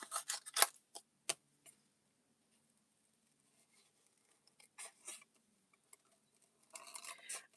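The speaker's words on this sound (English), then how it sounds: "I'm going to cut that piece out though." Scissors snip carefully around a piece of paper in a craft setting, a few quick close cuts early on, then quiet, then a burst of faint rustling and snipping near the end.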